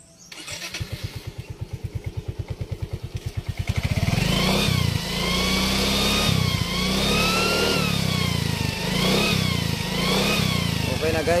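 A vehicle engine fitted with a magic whistle exhaust starts with a rapid chugging idle, then revs loud and close in repeated surges, each rise carrying a high wavering whistle over the roar; a voice speaks briefly under it.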